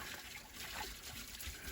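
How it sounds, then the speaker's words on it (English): Spring water trickles steadily outdoors on a February hike in the Kennerdell Tract, a soft continuous babble heard alone throughout. "one nice feature about this place is the spring"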